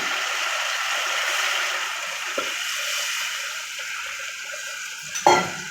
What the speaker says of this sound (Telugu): చికెన్ బాగా ఉడకడానికి కొంచెం వాటర్ కూడా వేసుకుంటున్నాను